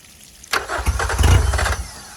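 A 2001 Honda B90 outboard motor, under repair on its lower unit and thermostat, starts up loud and close, with a sudden catch followed by a rough, rumbling run.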